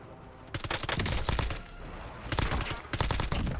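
Bursts of SMG fire ring out in Call of Duty Warzone, rapid automatic volleys that come in several long strings with brief pauses between them. The shots are loud and close, with no talk over them.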